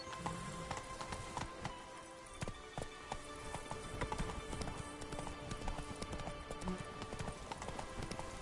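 Horse hooves clip-clopping in The Witcher 3: Blood and Wine, a steady rhythmic trot at moderate distance, with faint rain-like patter and a brief murmur of a voice.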